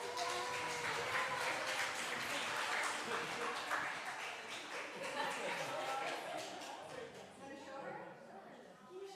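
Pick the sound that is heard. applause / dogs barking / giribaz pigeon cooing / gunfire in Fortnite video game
applause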